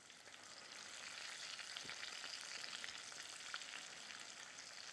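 Pounded okra pods frying in hot oil for a Southern-style crispy dish, a soft, even sizzle with fine crackles throughout, fairly quiet and close, no voices.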